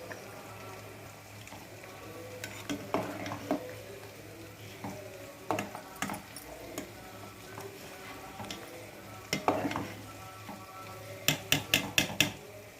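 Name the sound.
rice cooking in a pot with oil and bay leaf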